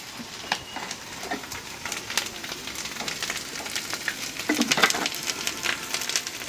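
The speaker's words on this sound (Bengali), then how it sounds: "এই যে এখন পেঁয়াজ আর মাছগুলি একটু চাপায় রাখলাম, আর একটু তেল দিয়ে দেই" Onions and fish frying in oil in a home kitchen pan, with a steady crackling sizzle and scattered sharp pops, growing a little busier toward the end, with no voices.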